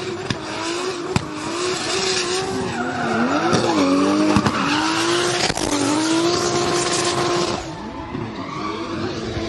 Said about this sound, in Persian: از شهاب پیشانیدار در حال عبور از پیچ ها هست، پیچ دوم رو هم رد میکنن.